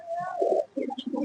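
A pigeon in a Giribuz pigeon loft near Basdroni gives a short, close coo in two soft, throaty bursts, with faint background sound behind it.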